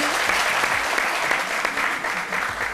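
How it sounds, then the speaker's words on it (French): An audience applauds steadily at a live televised midday show, a dense wash of many hands clapping at close range with no talk over it. "merci de bien vouloir applaudir le sage doyen"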